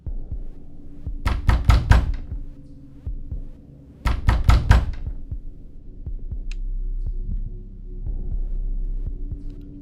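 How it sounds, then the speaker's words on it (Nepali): Hurried knocking on a door, used as a horror-story sound effect: two quick bursts of about four heavy knocks each, separated by a pause, over a low droning hum. "यसपटक आवाज अलि जोडले आएको थियो, मानौ कसैले हतारमा ढोका खोल्न खोजिरहेको छ।"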